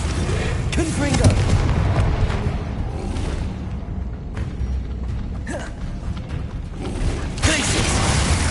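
Spell impacts and explosive bursts from casting Confringo in the Hogwarts Legacy video game, several crackling blasts repeating through a dense, continuous battle soundscape.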